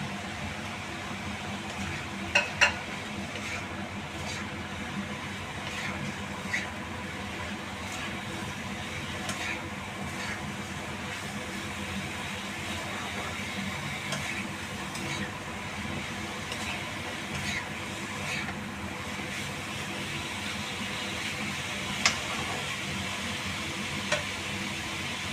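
Cauliflower pieces go into a pan of oil with cooked-down tomato and turmeric, giving a steady low sizzle with occasional spoon clicks and scrapes throughout.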